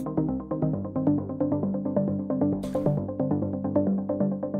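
A low-end synth lead with its filter cutoff set low plays a dull, muffled, rhythmic pulsing pattern of repeated notes, steady and fairly loud with no voices.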